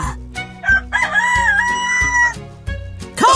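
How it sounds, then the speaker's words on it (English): A rooster crows a loud, drawn-out cock-a-doodle-doo close by, over a bouncy background music track with steady rhythmic beats. "When roosters crow, they need to be somewhere everyone can hear them."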